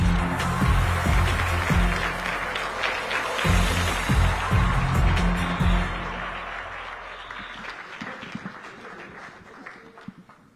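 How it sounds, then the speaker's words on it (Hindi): A crowd applauds loudly and steadily for several seconds, then the clapping thins out and fades to scattered claps. "प्लीज आपकी तालियां ना रुकें।"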